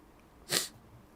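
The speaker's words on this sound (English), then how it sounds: "Everybody likes watching me sneeze." A single brief, sharp sneeze bursts out over quiet room noise, faint and close, with no talk around it.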